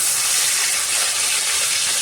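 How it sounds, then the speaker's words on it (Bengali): Pieces of rohu fish rubbed with salt and turmeric fry in hot oil, producing a loud, steady, close-up hissing sizzle that stays constant throughout. "মাছগুলোকে সামান্য নুন হলুদ মাখিয়ে তো এটাকে আমি ভেজে নেব"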